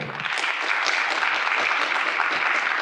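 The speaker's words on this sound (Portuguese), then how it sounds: "Uma salva de palmas, por gentileza." Audience applause at a geosciences round-table panel session, a dense, steady patter of clapping from many hands that holds evenly for a few seconds.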